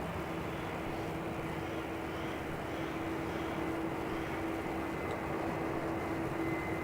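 A Jetstar airliner on downwind approach to runway 34 at Melbourne Airport, inbound from Brisbane, heard as a steady, moderately loud engine roar and rumble that holds evenly throughout with no talking.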